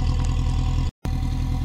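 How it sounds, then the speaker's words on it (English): Car engine running steadily just after a cold start, with a continuous low exhaust rumble and clatter, cut by a brief moment of silence. "You can certainly hear the exhaust coming out."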